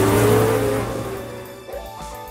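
Race car engine in the Automobilista sim racing game on the Nürburgring Nordschleife, loud and close, a sustained high rev that slowly fades and drops, then blips on downshifts near the end.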